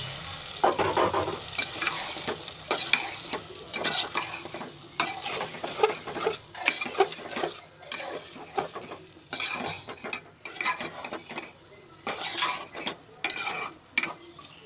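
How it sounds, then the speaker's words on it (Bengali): Malabar spinach seeds and potato being stirred into a well-fried spice paste in a pan, with continuous scraping and clattering spatula strokes over a frying sizzle, close and alone. "আমি এখানে পুঁই শাকের বিচিগুলো এবং আলুটা দিয়ে কষাবো।"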